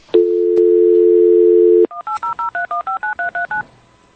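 A landline telephone sounds a steady dial tone for under two seconds, then about a dozen short DTMF keypad tones beep in an even, rapid sequence, loud and clean with no talk.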